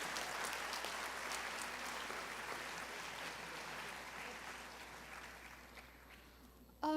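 Graduation audience at a university commencement applauds, a broad, continuous wash of many hands clapping at a distance, holding steady then fading near the end as a voice begins.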